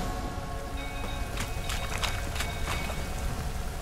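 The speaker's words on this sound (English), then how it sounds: "Looks like rain." Rain falls in the Witcher 3 video game, a steady hiss of drops with a few sharper splashes over low ambient rumble.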